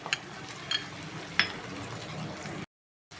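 Paneer frying in a pan, a soft steady sizzle with a few sharp clinks of a utensil against the pan, close and quiet, then cutting to silence at the end.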